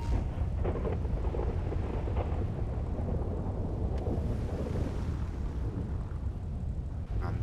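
Halloween weather in GTA Online brings a dense wash of heavy rain with low, continuous thunder rumbling beneath it. The storm stays steady and enveloping throughout, with no voices.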